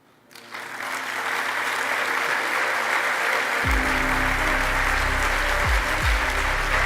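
A conference audience at Congreso Futuro breaks into loud, sustained applause after Shoshana's presentation, rising quickly from quiet into dense clapping, with low rumbling tones entering partway through.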